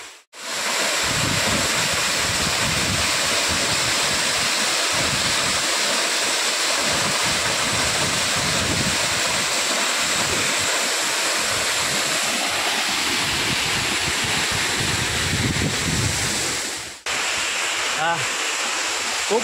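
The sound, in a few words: Bahubali waterfall near Ranpat village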